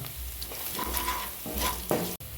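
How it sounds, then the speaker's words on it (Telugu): Curry leaves, green chillies and salt fry and sizzle in a hot pan with occasional stirring, a steady close crackle with brief scrapes and a sharp clink near the end. "కొంచెం కరివేపాకు తరుగు వేసుకుంటున్నా ఇప్పుడు పచ్చిమిర్చి వేసుకుంటున్నాను"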